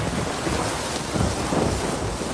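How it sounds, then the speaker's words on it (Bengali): Steady, loud rain falls without a break, a dense wash of drops with a low rumble underneath, heard alone with no voices. "বৃষ্টি এখন একটু কম হয়েছে"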